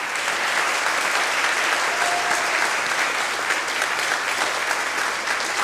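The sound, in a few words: applause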